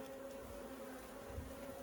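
Honey bees buzzing around an open hive during an inspection, a steady, faint, continuous drone with no talking.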